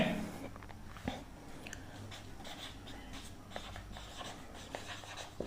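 Pen writing on paper during a maths lesson, soft scratchy strokes and light taps close by, quiet and intermittent, with no talking.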